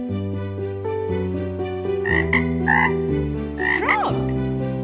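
A frog croaking sound effect plays in a read-aloud animal story: several deep, rasping croaks repeat over a steady tonal backing, clear and close.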